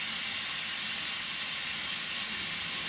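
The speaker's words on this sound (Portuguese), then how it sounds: "Esse zum zum zum que você está ouvindo aí é a minha panela de pressão" A pressure cooker with dried beef inside hisses steadily, a constant loud rushing of steam with no talk.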